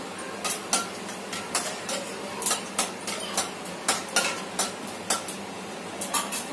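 Peanuts fry in a pan with mustard seeds while a spoon stirs them, giving a steady run of quick metallic clinks and scrapes in an uneven rhythm over a soft, faint sizzle.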